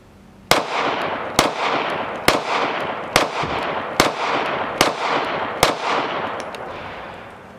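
Seven sharp handgun shots from a Girsan MC9 Disruptor ring out at a steady, roughly one-per-second pace, each crack loud and close with a short reverberant tail.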